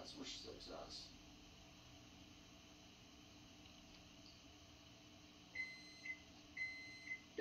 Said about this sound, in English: Oven says I'm ready.